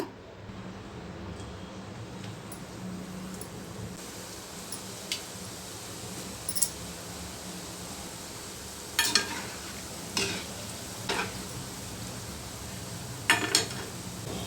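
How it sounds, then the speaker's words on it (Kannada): Gulab jamun dough balls deep frying in hot oil, a steady low bubbling hiss with a few louder crackles and clinks toward the end, close by and without talk. "ಎಲ್ಲ ಉಂಡೆ ಮಾಡ್ಕೊಂಡಿದ್ದೀನಿ ಈಗ ಡೀಪ್ ಫ್ರೈ ಮಾಡ್ಕೊಳ್ಳೋಣ"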